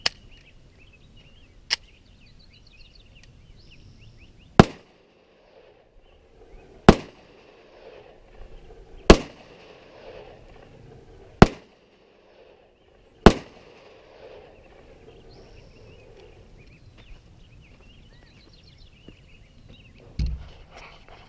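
Handgun firing factory ammunition rounds, a series of sharp, loud single shots spaced a few seconds apart, about seven reports with quiet gaps and faint background noise between them.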